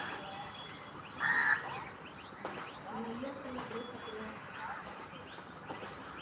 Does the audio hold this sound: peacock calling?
yes